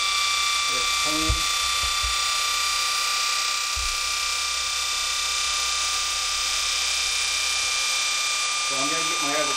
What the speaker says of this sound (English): Spinning away. It's a real good motor.